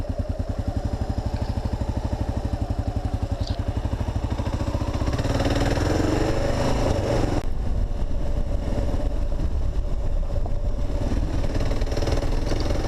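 A KLR650 dual sport motorcycle engine thumps at idle with an even, rapid single-cylinder pulse, then revs up and pulls away on a logging road in the Oregon Coast Range, loud and close throughout with no talking.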